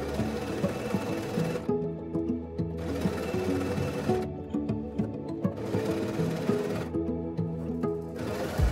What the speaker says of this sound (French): on va enlever le plateau amovible de notre machine à coudre afin de coudre plus facilement